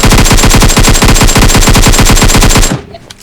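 Rapid automatic gunfire from an AK-style rifle in the mobile battle royale game PUBG Mobile, a loud, evenly spaced burst of shots lasting nearly three seconds before cutting off abruptly.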